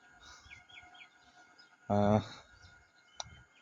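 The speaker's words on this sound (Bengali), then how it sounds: "আজকেও পাখির ডাক শুনতে পাচ্ছি।" Birds beside a busy road give a few faint, quick chirps over a low background hum, and a short loud tonal burst cuts in midway.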